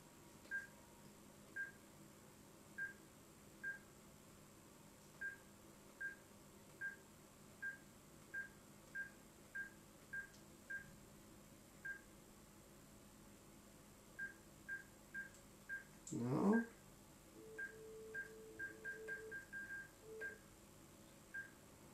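Touch-tone telephone dialing while calling the French internet provider Free: a long run of short, evenly spaced keypad beeps, then a brief rustle and a steady ringing-line tone with more quick tones, all close and clear with no talk.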